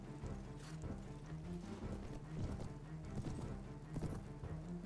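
Horses clip-clop in the 16th Century video game, a scattering of hoofbeats and faint snorts over a low murmuring background, soft and fairly distant throughout.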